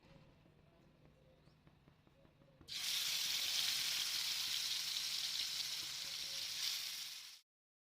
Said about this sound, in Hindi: तवे पे मैंने मस्टर्ड ऑयल शामिल कर दी थी, और एक एक लेग पीस और बोटियाँ सारी डाल के